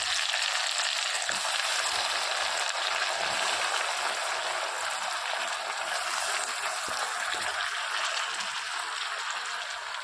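Hot oil frying in a pan before brinjal goes in gives a dense, even sizzle that holds at a constant loud level throughout, with only faint scattered pops and no voices.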